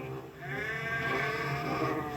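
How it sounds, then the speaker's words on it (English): Sheep being unloaded from wagons, with a single drawn-out bleat of clear harmonic tone lasting about two seconds, fairly close and alone. "Skarloey watched the farmers unload the sheep."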